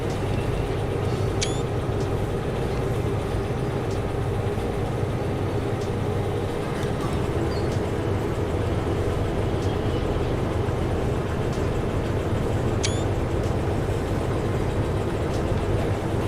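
In the train simulation game Derail Valley, a long, heavy train hauled by several locomotives rumbles steadily and loudly throughout, with faint metallic squeals and clanks over the dense, constant running noise.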